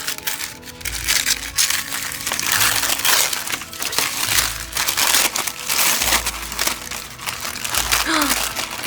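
Crinkly packaging is torn and unwrapped from a nail art box item, with loud crackling and crushing bursts in repeated waves and a few low knocks between them.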